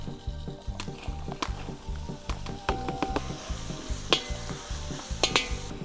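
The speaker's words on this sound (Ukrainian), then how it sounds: "Спочатку без олії випарюємо нарізані шампіньйони." Sliced champignon mushrooms sizzling without oil in a cauldron over a wood fire, a steady close sizzle broken by repeated scraping and clinking stirs from a utensil.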